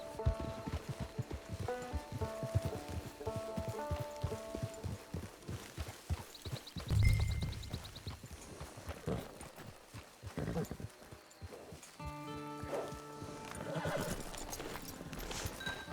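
Horse hooves clop steadily and a horse whinnies loudly partway through in the Red Dead Redemption 2 video game, with background music and ambient game sounds around them.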